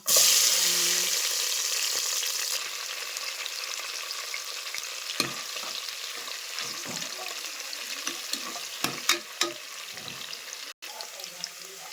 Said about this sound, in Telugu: పోపు పెట్టాలి